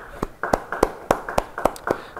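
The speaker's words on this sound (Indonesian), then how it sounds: "Beri tepuk tangan yang baik bagi Dia" A church congregation claps in praise of God, with about seven sharp, evenly spaced claps in a slow rhythmic beat, close and distinct over a faint background.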